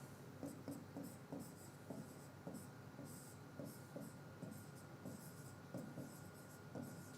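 A pen scratches out a voltage-over-impedance equation by hand in short bursts of strokes, quiet and close, with brief pauses between groups.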